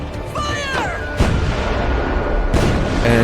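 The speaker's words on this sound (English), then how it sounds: "And explosions." Loud booming blasts from the video game Azuma, a sharp explosion near the start and another later, over a constant rumbling battle din with brief electronic chirps, during an airship cutscene.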